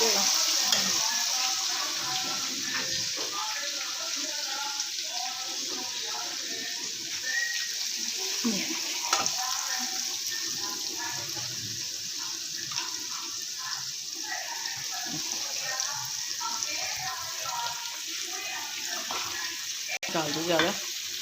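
Pieces of fish frying in hot oil, a steady close sizzle and bubbling that runs throughout with occasional stirring and clinks, while a person talks quietly in the background.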